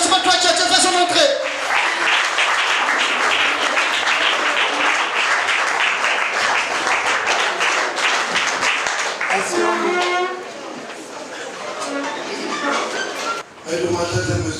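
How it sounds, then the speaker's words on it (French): A wedding hall audience applauds loudly as the mayor enters, dense sustained clapping filling most of the stretch before thinning out, with a voice speaking over the start and end. "On applaudit très fort. Sous vos applaudissements."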